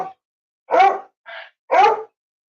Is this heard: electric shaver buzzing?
no